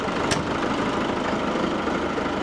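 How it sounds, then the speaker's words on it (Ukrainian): A steady, close engine drone of a Lovol 504 tractor driving, rough and continuous throughout with no pauses. "І трактор їде на склад."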